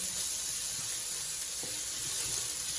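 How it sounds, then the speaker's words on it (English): Onion frying in oil in a pan, a steady soft sizzle with faint hiss throughout and a few light clicks, no talking. "I'm starting with the oil. I'm gonna add the onion."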